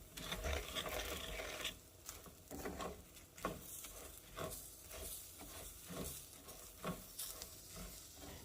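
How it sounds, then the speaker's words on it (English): Chopped onion and rice toasting in a pan for Mexican-style arroz con pollo, a soft continuous sizzle broken by repeated scraping stirs, close and fairly quiet with no talking. "I'm going to continue to toast the rice and saute the onions."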